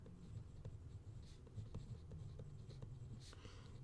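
Chalk or marker strokes sound during a math lecture, a series of soft, quick scratches and taps over low room hum with no talking.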